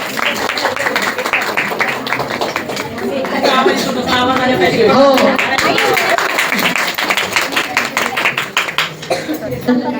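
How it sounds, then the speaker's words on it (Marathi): A crowd claps steadily for about ten seconds at a village sports club's golden jubilee celebration, honoring a 70-year-old woman fish seller, with voices and chatter mixed into the dense applause. "टाळ्यांचा कडकडाट झाला पाहिजे."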